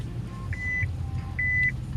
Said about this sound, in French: Il y a beaucoup de voitures, hein.